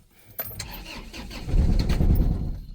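An Isuzu D-Max Dragon pickup's diesel engine cranks with a click, then catches and settles into a loud, close, rough idle.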